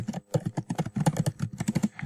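Quick, irregular bursts of close key clicks as text is typed on a computer keyboard, each keystroke distinct and crisp, with no voices.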